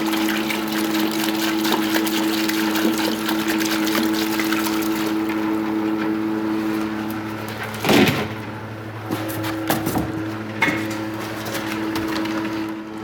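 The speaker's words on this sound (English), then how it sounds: "go ahead and turn your pump on. And as it's pumping in, I'm going to go ahead and just keep adding fluid." A pump pushes liquid into a tractor tire to load it with fluid, giving a steady, droning mechanical hum with a constant tone. A few heavier clunks and surges come near the end.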